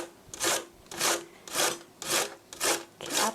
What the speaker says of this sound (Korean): 오이는 이렇게 채로, 이렇게 납작한 채칼로 썰면 더 부드럽게 먹을 수가 있어요.